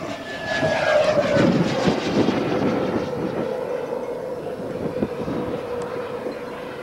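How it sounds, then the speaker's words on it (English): A steady model jet engine roar with a rising whine at a model jet competition, sustained and fairly loud throughout, no talking. "this particular jet sounds so different"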